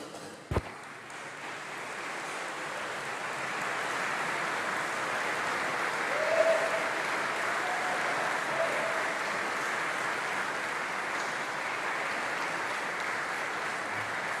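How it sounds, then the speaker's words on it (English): Soft, steady applause from graduates at a university graduation ceremony, heard from a distance as a continuous even patter with no voices over it. "huge round of applause, please"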